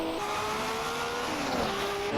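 Porsche 935 race cars from the 1970s and 80s battle at Zandvoort, loud engines roaring close by in a sustained howl with pitch shifts as they shift gears and jostle, no commentary over them.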